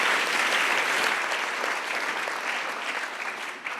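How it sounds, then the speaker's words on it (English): A conference audience gives warm applause to a keynote speaker on the future of health and sensors. The clapping is dense, loud and continuous, a full crowd sound holding steady for a few seconds. "Please give a round of warm applause for Zayna Khayat."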